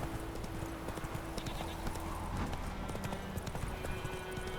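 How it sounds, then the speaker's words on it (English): Roach's hooves clip-clop at a fast sprint in The Witcher 3, a dense, continuous galloping rhythm up close under game ambience. "Come on, sprint, horsey."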